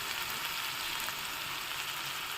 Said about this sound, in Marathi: आणि मग त्यामध्ये टाकणार आहोत आपण मेथीची भाजी, जी स्वच्छ धुवून कट करून घेतलेली आहे.